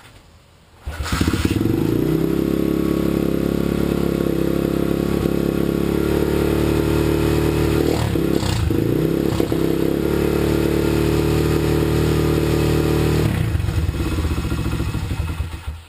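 An SDG/SSR 125 pit bike engine, choke fitted and still cold, catches after a second and runs at a loud, steady, buzzing idle close by for about twelve seconds before cutting out, with no talk.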